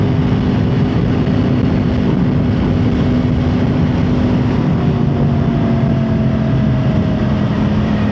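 A motorcycle cruising at about 70 mph on a back road, a steady loud drone of engine and rushing wind with a constant low hum and no pauses.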